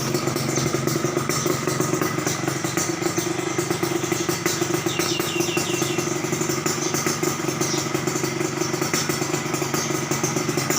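A Honda Tena off-road motorcycle with an aftermarket NFS exhaust runs steadily with a raspy, clattering exhaust note, fairly close, with slight fluctuations but no big revs.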